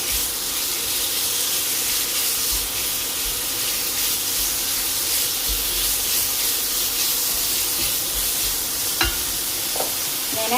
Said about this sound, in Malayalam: നമ്മൾ മാരിനേറ്റ് ചെയ്ത് വെച്ചിരിക്കുന്ന ചിക്കൻ ഒന്ന് വറുത്തെടുക്കണം.